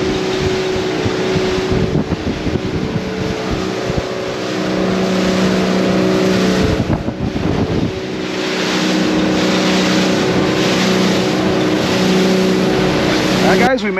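A motorboat runs between Islamorada and Key Largo, a loud, continuous engine drone mixed with heavy wind and water rush, dipping briefly around the middle before building again.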